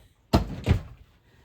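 A desk drawer in a crafting room is pulled open and pushed shut, giving two close, firm thunks about a third of a second apart with a short rumble between them.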